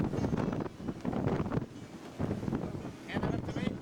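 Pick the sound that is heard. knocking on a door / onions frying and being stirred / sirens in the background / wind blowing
wind blowing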